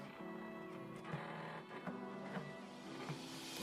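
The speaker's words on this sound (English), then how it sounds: "and then pretty much gets right into cutting." A small Silhouette Cameo 3 vinyl cutter slices a decal, giving a quiet, steady motor whir with faint tones and soft periodic ticks and clicks as the blade carriage moves back and forth.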